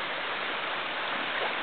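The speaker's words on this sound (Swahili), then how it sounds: "Kama unavyoona maji yanavyokwenda kasi, mvua ilikuwa ni nyingi sana" Fast-flowing floodwater rushes after heavy rain along a closed street, a steady, dense roar of water that fills the short stretch on its own without any voices.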